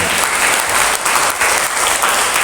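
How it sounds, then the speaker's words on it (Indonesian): Steady audience applause filling a hall at a foundation gathering after a speech, dense and continuous clapping with no talk over it. "tepuk tangan untuk kita semua"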